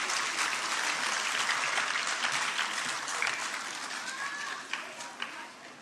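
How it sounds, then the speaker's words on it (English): Audience applause at a state-level competition in Jammu and Kashmir, a dense, sustained clapping from a crowd that fades slightly toward the end with a few louder individual claps. "Keep the session of applause going."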